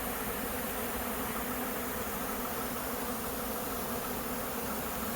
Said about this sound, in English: It's a lot of bees.